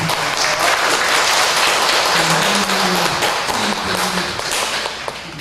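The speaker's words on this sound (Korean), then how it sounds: "박수 한번 드리겠습니다" Workshop audience in a hall giving a round of applause, with loud, dense clapping that continues steadily for several seconds and tapers slightly at the end. A voice murmurs faintly beneath it.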